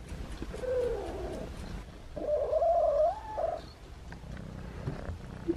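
A stray cat newly taken in as a pet purrs close by, with soft chirping trills rising over a low rumble in two stretches, then quieting.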